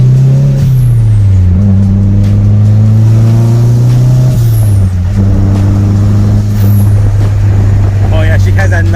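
A 240SX S13 with a turbo idles and revs loudly up close, the engine note rising and falling in a couple of swells with a whistle near the end while people talk.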